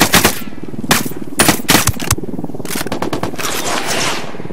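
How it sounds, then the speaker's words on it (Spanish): Automatic gunfire in the video game Ghost Recon Wildlands aimed at pursuing enemies, with loud close bursts and rapid rattling volleys clustered across a few seconds and no talk. "Les estoy disparando a los que me siguen,"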